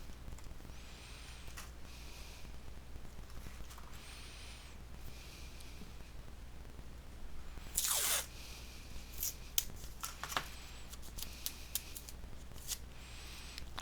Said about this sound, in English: I'll put a piece of tape across and across